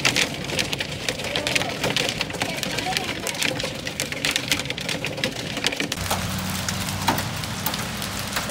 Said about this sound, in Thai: โอ้โหลูกเห็บตกมาเยอะมากเหมือนหิมะเลยนะคะแต่ไม่ใช่ค่ะนี่คือลูกเห็บ